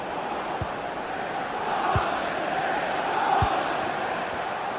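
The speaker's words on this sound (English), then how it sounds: "the crowd is certainly trying to motivate the team to push them forward to get the equaliser" Football crowd in a video game, a steady roaring chant that swells twice, heard at a distance with a few faint thumps and no clear speech.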